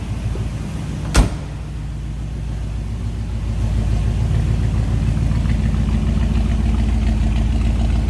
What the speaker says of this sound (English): Listen to that nice little rumble coming out of that 352.